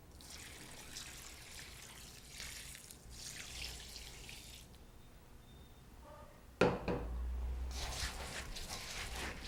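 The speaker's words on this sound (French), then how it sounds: "Maintenant, il faut rincer le riz." Rice for sushi rinsed under running tap water in a sink, a steady rushing and trickling flow that is interrupted by a sharp clatter before the water runs louder again.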